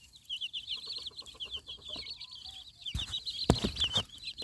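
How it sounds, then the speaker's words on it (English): A mother chicken clucks in a quick repeated rhythm while baby chicks peep high and shrill over it, close and moderately faint, with a couple of brief knocks. "Mother chicken"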